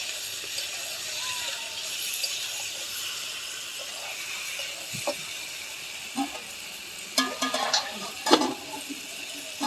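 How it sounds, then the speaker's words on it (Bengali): Potatoes and cabbage fry in oil in a pan, giving a steady soft sizzle and hiss, with occasional clinks and stirring scrapes toward the end. "বাঁধাকপির আলুটা আপনারা তেলে কষে নিতে পারেন, তেলে কষিয়ে দিতে পারেন।"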